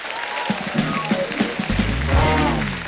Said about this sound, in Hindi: जोरदार तालियां एक बार ट्रेलर के लिए